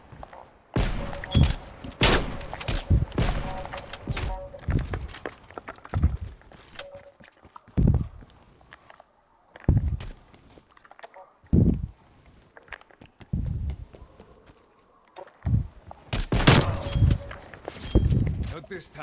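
Gunfire in the video game Call of Duty: Black Ops Cold War, heard as sharp, loud bursts and short volleys with pauses between them, mixed with voices talking.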